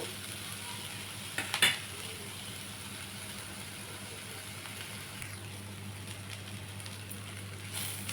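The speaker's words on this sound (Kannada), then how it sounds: "ನೋಡಿ ಈಗ ಇದು ಈರುಳ್ಳಿ ಚೆನ್ನಾಗಿ ಫ್ರೈ ಆಗಿದೆ" Onions fry in a pan with a constant soft hiss, broken by a brief spoon scrape against the pan early on and faint stirring later, with a low steady hum underneath and no talking.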